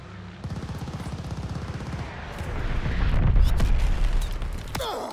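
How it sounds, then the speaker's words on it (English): A friendly bombing run in Call of Duty unleashes rapid machine-gun fire followed by a swelling roar of heavy explosions and booms, loud and continuous, ending with a sharp crack. "Friendly bombing run inbound!"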